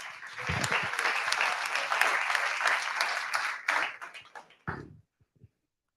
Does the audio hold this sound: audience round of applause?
yes